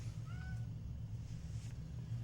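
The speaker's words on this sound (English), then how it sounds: "My cat's even joining us." A pet cat gives one short, faint meow early on over a steady low electrical hum indoors, with no talking.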